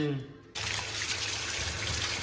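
Kitchen tap water gushes into a sink as dishes are washed, starting abruptly after a brief quiet moment and then running steadily and close by for a couple of seconds.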